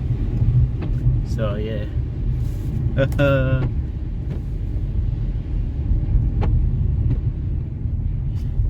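A car driving along a snowy road in Arlington and Fort Worth, Texas, heard from inside the cabin as a continuous low rumble, with people talking briefly over it.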